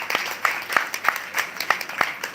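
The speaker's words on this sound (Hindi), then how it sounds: "इनके लिए तालियां बजा दो भाई पहले तो।" A crowd at a religious gathering claps together in a brief burst of steady, rhythmic applause, moderately loud and without speech.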